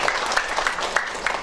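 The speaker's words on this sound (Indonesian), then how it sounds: "Mohon kasih aplaus dulu untuk dua narasumber." An audience at a public discussion forum on regional inflation in Majalengka applauds two speakers, a brief spell of steady, moderately distant clapping from a small crowd.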